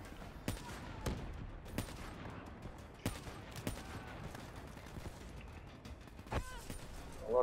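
Scattered shots in a Black Ops 3 campaign firefight, sharp separate cracks spaced irregularly across a quiet, low-level background, fairly faint and distant-sounding.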